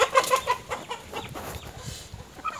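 Native country chickens cluck and squawk close by in a short burst of overlapping calls, loud and busy, with farmyard noise behind.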